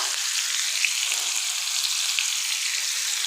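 Chicken tawa boti pieces fry on a hot tawa, dhaba style, with a dense, steady, close sizzle and faint crackles throughout, no voices.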